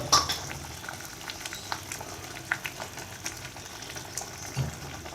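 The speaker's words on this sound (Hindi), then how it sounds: "बस हम इनको 2 से 3 मिनट मज़ीद कुक करेंगे और इसका थोड़ा सा पानी ड्राई करेंगे" Chicken and turnip curry bubbling in a pot with water cooking off, a steady soft simmer with scattered pops and small clinks, heard alone at moderate loudness.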